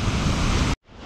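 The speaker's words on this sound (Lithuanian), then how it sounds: "Platus krioklys šiaip labai." A wide Icelandic waterfall, about eight metres across and seven metres high, roars as a steady broadband rush, close and loud, before cutting out abruptly and returning fainter.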